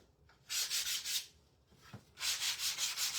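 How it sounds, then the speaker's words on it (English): Sheet of 120 grit sandpaper lightly rubbed along the edges of a small wooden shelf sitter, two bursts of quick back-and-forth strokes separated by a short pause, close and clear with no talk. "this is 120 sandpaper, just lightly sand that back down"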